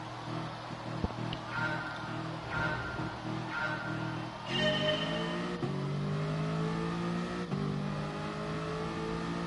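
A race car engine in Gran Turismo Sport revs and climbs through the gears at the start of a Manufacturer's Cup race, with pitch sweeps and shift breaks, loud and sustained.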